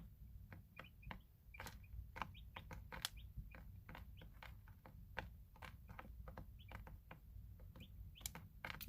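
Day-old-style baby chicks make faint, scattered high chirps and soft pecking taps at intervals over a low steady hum, with no talking.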